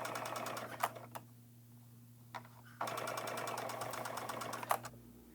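A sewing machine stitches quilt binding, running in two steady bursts of rapid, even needle chatter separated by a quieter pause, with a low hum underneath and a few sharp clicks.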